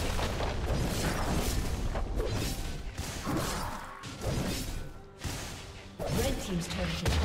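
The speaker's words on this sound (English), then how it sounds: "Red team's turret has been destroyed." A turret is destroyed during a League of Legends match, with heavy crashing booms and impacts in dense, repeated bursts of game combat. Loud, continuous effects fill the scene, and speech-like game audio mixes in.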